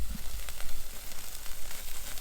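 Lamb chops sizzle over a campfire at an outback station campsite, a steady soft crackle and hiss with faint pops, moderately quiet and close, with no talking.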